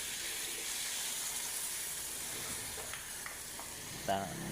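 Tomato sauce sizzling as it is added to a hot frying pan, a steady hiss with a few soft clinks and a brief splash near the end.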